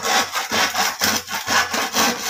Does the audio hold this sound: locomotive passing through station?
no